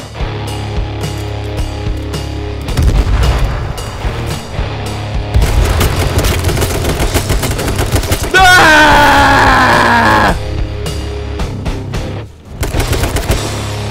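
Gunfire in the battle-royale game H1Z1: repeated sharp shot bursts and booms through the clip, loud and close, with a player shouting over parts of it.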